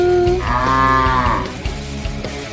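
A dairy cow lets out one long, loud, close moo with a rising tonal call, followed by lower livestock grunts and background noise.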